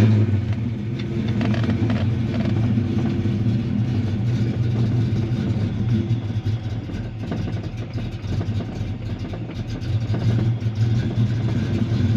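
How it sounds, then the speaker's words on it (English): Ford Fox Body engine running with a steady mid-pitched drone throughout, close by and unbroken, with slight swells as it settles into a fast idle after starting. "And you press in the clutch, start it up."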